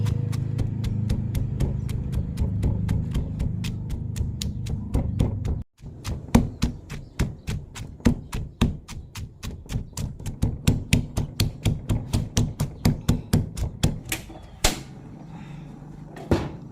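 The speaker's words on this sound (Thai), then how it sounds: "เขาก็จะเอากระเทียมกับหอมแดงนะจ้ะ ใส่ลงไปเลย แล้วก็โขกให้ละเอียดเลย" Garlic and shallots pounded finely in a mortar for Thai curry paste, a steady run of sharp, loud knocks that settles into a fast, regular rhythm after a brief pause, heard up close with no talking.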